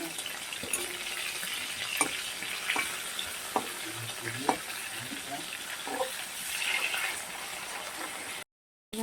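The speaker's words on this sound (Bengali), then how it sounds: "এভাবে আমি মাছগুলোকে ভেজে নেব মাছগুলোকে উল্টে দিচ্ছি" Pieces of fish frying in oil in a pan give a continuous close sizzle, with scattered sharp clicks and scrapes as the pieces are turned over.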